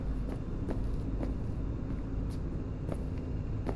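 Car engine in Cyberpunk 2077 driving, a steady low rumble that holds at even loudness throughout, with faint clicks or ticks scattered over it.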